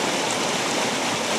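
Creek water at Cathy's Creek in North Carolina pours steadily over rocks, a loud, continuous broadband rush with no pauses, close to the listener and heard alone.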